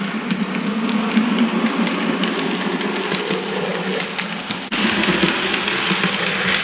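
A model train rolls through a model railway station layout with steady rattling and rhythmic clicking of wheels on track, loud and continuous throughout.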